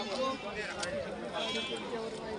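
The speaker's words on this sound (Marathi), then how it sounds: "वो बकरी है." A goat bleats amid the chatter of a busy livestock market in Chakan, Pune, with a wavering, nasal call standing out over a background of people talking.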